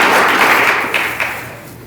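An audience at an awards gala gives the nominees a round of applause. The dense, loud clapping fills a large room and then gradually fades away, with no voices over it.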